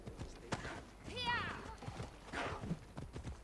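Hooves clip-clop rhythmically as a horse is ridden in the video game Assassin's Creed Odyssey, with a brief whinny, all under someone talking in French throughout.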